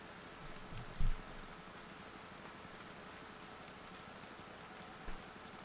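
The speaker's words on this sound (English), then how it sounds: "Super calm vibes with the rain on this track." Rain falling on a race track in a VR kart racing video game, a faint, steady patter with a couple of soft thumps near the start.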